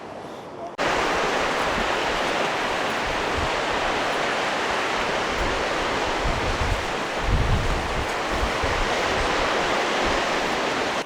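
Sea waves strike a rocky Japanese coastline in a loud, continuous roar of surf mixed with wind buffeting the microphone. The sound starts abruptly and keeps a steady rushing wash throughout.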